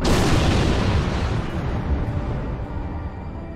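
Starships explode in Star Trek Online with a heavy, rumbling boom that rolls on and slowly fades, loud and close, with no talk.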